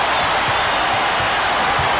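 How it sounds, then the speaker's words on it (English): A packed Houston arena crowd roars for the Rockets late in a 1993 NBA playoff game against the Clippers, a loud, steady wash of cheering and clapping with faint rhythmic thumps underneath. "The crowd urging the Rockets on with just under 5 minutes remaining in the fourth."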